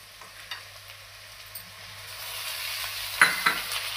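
Chopped onion and tomatoes sizzle steadily in a hot pan for matki usal, with a low continuous hiss and a few louder scraping strokes of a spoon near the end.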